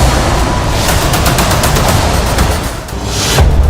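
Rapid bursts of gunfire crackle in dense, overlapping volleys. The shots are loud and continuous, with no voices heard.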